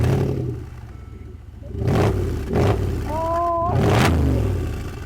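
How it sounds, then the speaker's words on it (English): A Mercedes G-Wagon revs through its aftermarket exhaust, with several rising and falling bursts of engine sound over a steady rumble, fairly close and loud. "because I love this exhaust, so I was revving it."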